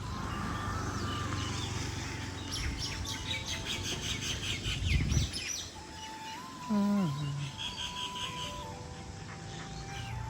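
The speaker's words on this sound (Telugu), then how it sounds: "ఎన్ని ఎన్ని వేల పక్షులు ఈ చెట్టు మీద గూళ్ళు కట్టుకుంటాయి" Birds call and chirp from a large old tree where thousands nest, scattered tweets and short whistled notes over a background hum, with one louder nearby call standing out midway.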